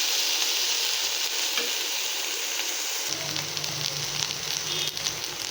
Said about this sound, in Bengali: ভালো করে লাল করে ভেজে নেব।